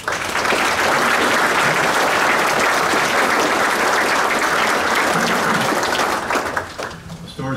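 Loud, sustained audience applause at a 2018 Memorial Day ceremony in Fairfax, Minnesota, greeting a Vietnam veteran guest speaker, dense clapping running for several seconds before tapering off near the end.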